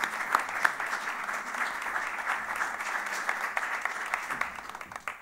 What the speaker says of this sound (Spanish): redoblemos el aplauso para él